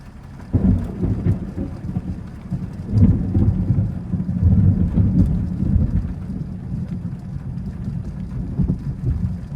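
Thunder rolling over a mountain at sunset during a storm, with steady rain falling throughout; low, heavy rumbles swell and fade across the whole stretch, loud and fairly close, with no voices.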